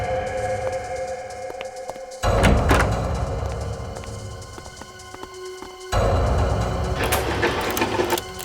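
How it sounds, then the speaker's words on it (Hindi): A door being tried that will not open, heard as two bursts of loud rattling and clattering against the frame, the second continuing to the end, with a steady mechanical hum beneath and no talk. "ये दरवाजा खुल नहीं रहा है।"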